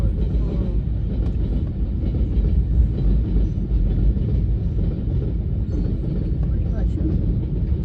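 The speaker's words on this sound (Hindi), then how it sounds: "अभी ट्रेन गुजरेगी फिर फाटक खुलेगा।" Train rolls past a closed railway crossing, a close, continuous low rumble of wheels and wagons with faint clacking throughout while people talk nearby.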